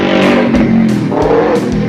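A big bike motorcycle passing at night, its engine revving loudly and close with rising and falling surges, then fading slightly as it goes by.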